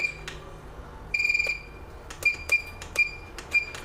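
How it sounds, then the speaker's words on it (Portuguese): A Quick 2008 D+ hot air rework station gives a series of short, high electronic beeps, one held a little longer, over a steady background hum of the hot air blower. "Pressiona até bipar. Quando você ouvir o bip, está pronto."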